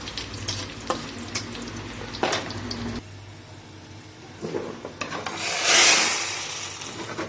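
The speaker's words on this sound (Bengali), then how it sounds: "তো ডালটা ফোড়ন দিয়ে দিলাম" Onion, garlic and mustard seeds sizzle in hot oil as a tempering for mango dal, a steady crackling fry with scraping stirs and a louder hissing burst near the end, close by with no talk.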